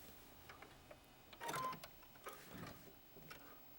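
A sewing machine stitches fabric in short bursts, with a louder run near the middle and quieter intermittent whirring and clicks around it, and no voices.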